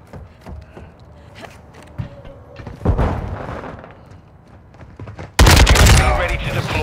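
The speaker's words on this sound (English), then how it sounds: "There, I heard shotgun." Gunfire from Call of Duty Modern Warfare 2, scattered shots in the distance building to a loud, close shotgun-like blast near the end, a voice talking over parts of it.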